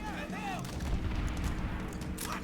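Sniper rifle fire in Call of Duty: World at War, with sharp booming gunshots over a continuous rumble of battle noise and a short whistling sound near the start.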